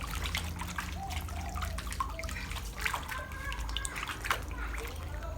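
Yams being washed by hand in water, with soft continuous splashing, trickling and swishing close by, while someone talks over it.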